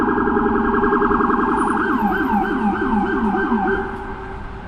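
Wailing emergency vehicle sirens on a Manhattan street in New York City at Christmas, two overlapping sweeping tones, loud and fairly near over steady traffic noise, fading slightly at the end.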